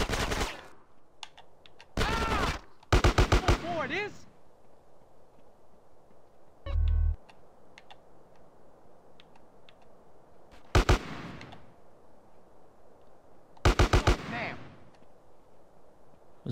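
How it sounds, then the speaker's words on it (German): Short bursts of AK rifle fire in the video game GTA San Andreas, several rapid volleys separated by quieter gaps with a low thump in between, loud and close against a faint background. "Die rücken hier mit AK an."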